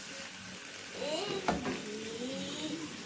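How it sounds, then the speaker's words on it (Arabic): Shrimp sizzling in butter in a pan as they are stirred, a soft steady fry with a faint scrape of the utensil and a brief clink partway through. "وحطيت نص كميه الجمبري هنا، وهقلبهم كده في بعض تقليبه حلوه"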